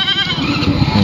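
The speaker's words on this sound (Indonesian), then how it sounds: "Ini aneka kambingnya lokalan, hanya kan kepala hitam dan kibas juga ada, Jawa Randu" Local goats bleat at a busy Indonesian village goat market, a loud close bleat with quavering vibrato over crowd murmur.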